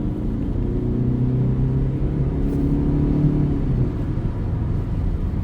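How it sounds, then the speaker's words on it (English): A 2015 Toyota Camry LE with the 2.5-litre engine accelerates under manual shifting, a steady low engine drone and road rumble from inside the cabin, holding even and moderately loud. "And we'll do a quick acceleration here."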